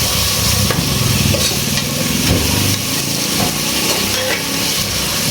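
Ginger garlic paste fries in a pan for biriyani, sizzling loudly while a spoon scrapes and stirs through it in repeated strokes.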